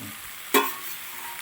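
Tender papaya curry is stirred in a pan, giving one short scraping burst of sizzle over a quiet, steady background hiss.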